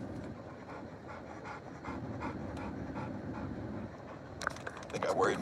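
A dog pants steadily and close by in short rhythmic breaths, with soft rustling and a brief clatter near the end, near a pond.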